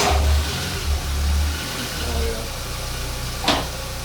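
A Ford Ka engine with a worn drive belt runs close by at a low idle, with a few uneven low throbs early and a brief sharper squeal partway through; someone talks faintly underneath.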